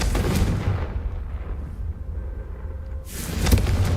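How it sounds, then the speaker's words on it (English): A Confringo spell in Hogwarts Legacy goes off with a heavy booming blast, then a low rumble that fades into a quieter lull before another burst of crackling impacts near the end. "I think you'll find that a Confringo cast travels a bit farther than that of a spell like Incendio."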